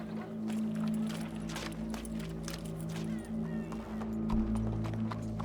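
Hooves clip-clop on hard ground in a Red Dead Redemption 2 western scene, a steady walking rhythm set against a low sustained hum.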